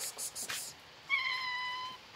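A single close cat meow, drawn-out and tonal, following a few soft rustles and brief noises.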